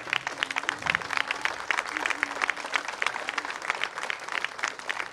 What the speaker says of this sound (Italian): Qui faccio un applauso.